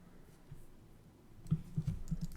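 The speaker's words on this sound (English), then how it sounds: "It's a lot of typing for me to do." Computer keyboard typing in a quiet room, a few soft scattered clicks at first, then a short burst of louder keystrokes in an uneven rhythm near the end.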